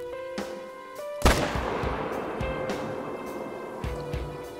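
Single sharp, loud report from an M1 semi-auto .30-06 rifle in the hunting game theHunter: Call of the Wild, with a long rumbling tail after it and faint ambient tones.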